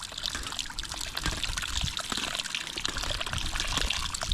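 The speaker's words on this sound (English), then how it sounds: "So I want to open here so as water will be released out." Water released through the main outlet of a fish pond trickles and splashes steadily, a close, continuous gurgling flow with no speech.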